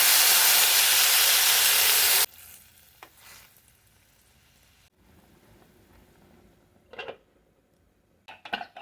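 Water hits a hot pan of coriander powder, Kashmiri chilli and homemade spice mix, bursting into a loud roaring sizzle for about two seconds before dropping to a quiet simmering hiss with a few clinks.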